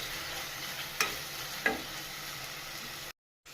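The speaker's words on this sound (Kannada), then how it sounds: "ನಂತರ ಟೊಮೊಟೊ ಸೇರಿಸ್ತಾ ಇದ್ದೀನಿ." Chopped tomatoes fried with ginger garlic paste for mutton chukka, giving a steady close sizzle with two sharp spatula clinks against the pan, and the sound cuts off abruptly near the end.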